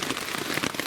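Rain pattering on a tent, a close, dense and even hiss of drops with no voices, heard from inside during a motorcycle camping trip in Norway.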